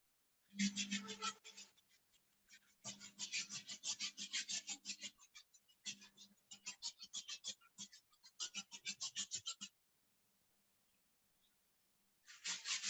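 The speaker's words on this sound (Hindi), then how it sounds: "दोनों हाथ को ऊपर करके थोड़ा इसको रगड़ेंगे" Palms rubbed briskly together to warm them during a yoga session, a close, dry rasping swish in several bursts separated by short pauses.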